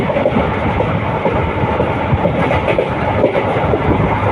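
A passenger train on the Tiruchirappalli to Puducherry line runs at high speed, heard from on board as a loud, close, continuous rumble with faint rhythmic clatter from the wheels.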